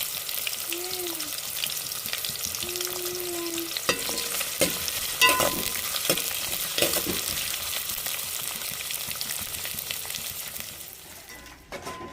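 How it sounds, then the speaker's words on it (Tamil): Chopped onions and four green chillies fry in a pan for a Tamil fish curry, with a steady sizzle and occasional stirring clatter, close and fairly loud throughout with no talking. "வெட்டி வச்ச வெங்காயத்தையும் சேர்த்துக்கிறோம் ஒரு நாலு பச்சை மிளகா சேர்த்துக்கணும்"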